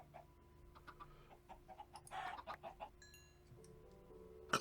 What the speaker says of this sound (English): We've probably got more cockerels than we need.